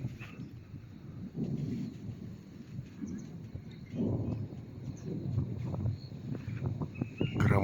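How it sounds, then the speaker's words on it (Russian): Low rolling thunder rumbles in swells from a distance beside a river on a boat journey from Ust-Kut to Yakutsk near the Sinsk pillars, faint and broken by wind noise on the microphone. "А у нас гром."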